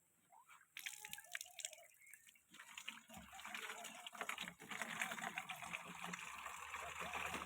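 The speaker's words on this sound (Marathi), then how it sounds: "पाण्याचा ड्रम भरून ठेवते" Water pours into a household drum, starting with scattered drips and then settling into a continuous splashing, sloshing rush that grows steadier and fuller, heard faintly and close by.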